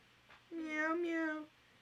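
A person imitates a cat's meow, one drawn-out, whiny call of about a second, with no other sounds around it.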